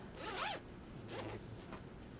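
A zipper on a homemade fabric zipper bag being pulled in two quick strokes, one long rasping run and then a shorter one, close and fairly quiet with no talk.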